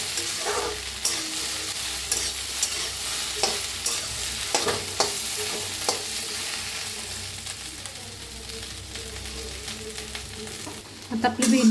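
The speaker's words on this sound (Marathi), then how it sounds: "आता आपली भेंडी छान अशी भाजायला लागलेली आहे।" Okra (bhindi) fries in a pan with a steady sizzle, punctuated by repeated scraping and clanking of a spatula as it is stirred, close and moderately loud.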